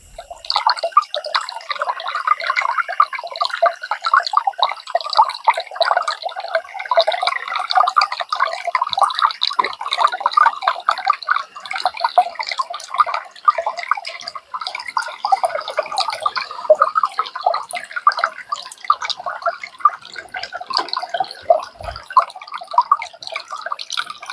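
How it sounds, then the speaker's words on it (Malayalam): A forest stream in the Parambikulam tiger reserve, captured with a microphone set close to the water: a steady, busy babble of trickling and dripping flow that stays even and fairly loud throughout, with no voices. "ഇവിടെ ഒരു കാട്ടരുവിന്ന് ഞാൻ മൈക്രോഫോൺ വെച്ച് വെള്ളത്തിൻ്റെ സൗണ്ട് ഒന്ന് പിടിച്ച് നോക്കി"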